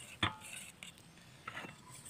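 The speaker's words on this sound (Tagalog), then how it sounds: "halu-haluin na lang natin para tunaw na tunaw yung tsokolate" Chocolate and milk being stirred in a cooking pot to melt, with a sharp utensil clink against the metal near the start and softer scraping stirs later, close and quiet.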